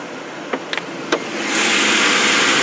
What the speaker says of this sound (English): Four-liter single overhead cam V6.